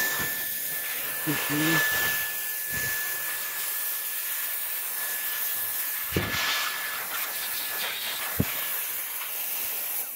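A handheld turbo fan blows air over a freshly washed scooter with a steady, strong rushing hiss and a thin high whine, interrupted by a few brief knocks and clatters.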